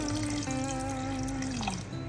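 Water pours steadily into a pressure cooker holding beef with shallots, ginger-garlic paste, turmeric and salt for a Kerala-style curry, a continuous close trickle with a rising pitch as the vessel fills, no talk.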